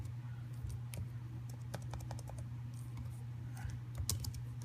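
Rapid typing on a computer keyboard entering a search query, a quick irregular run of crisp close clicks over a low steady electrical hum.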